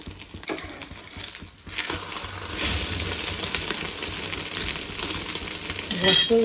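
Egg, bread and masala cooking in a pan, with a spatula stirring and scraping against metal, soft sizzling underneath, and a sharper clatter near the end.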